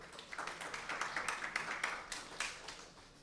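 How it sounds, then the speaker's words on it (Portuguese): An audience at a legislative environmental committee session claps for an introduced official, a fairly quiet, uneven patter of many hands that swells and thins across the stretch. "Uma salva de palmas, por gentileza."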